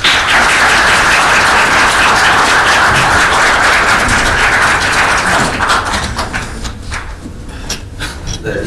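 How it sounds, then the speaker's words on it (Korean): A lecture audience at a quality-management seminar welcomes the lecturer with loud, dense applause from many hands, holding steady and then thinning into scattered final claps. "모두 박수로 맞아주시기 바랍니다."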